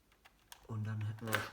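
Keys on a Samsung R525 laptop keyboard click into place as they are pressed during reassembly: a few faint, quick clicks, then someone talks loudly over the rest.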